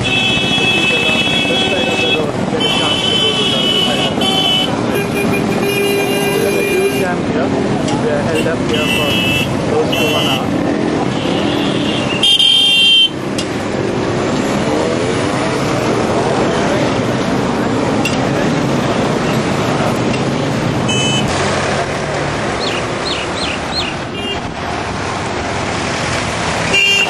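Busy road traffic at a one-way bridge crossing in Nainital, with repeated car horn toots over steady engine and roadway noise, loud and continuous, with voices talking throughout.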